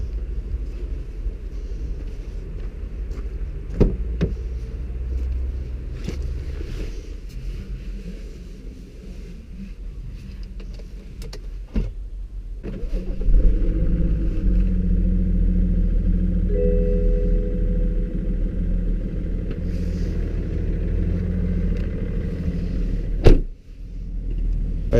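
A tuned 2005 BMW 535d diesel making about 370 horsepower drives through city streets, its engine rumble steady and close, swelling with acceleration partway through and broken briefly by a few sharp knocks.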